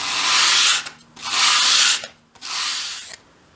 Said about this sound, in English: hold the piece at a 45-degree angle and keep it at that angle as you sweep it towards you